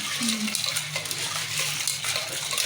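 Potatoes and peas being washed in water, with splashing and sloshing as they are swirled and rinsed by hand in a pot, moderately close and alone.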